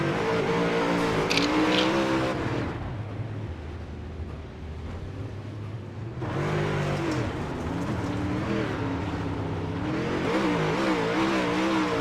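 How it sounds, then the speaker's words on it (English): UMP modified dirt race cars hot lap around Limaland Motorsports Park, their engines roaring and revving loudly and steadily, with pitch swelling and falling as cars pass and a brief lull midway. "UMP mods rocket around the Lima Land Motorsports Park"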